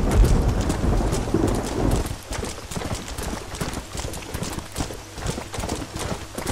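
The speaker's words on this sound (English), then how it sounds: "Come on, you slow ass horse." Horse galloping in the Red Dead Redemption video game, a rapid continuous clip-clop of hooves on ground with a rumbling undertone, steady and fairly loud throughout with no talking.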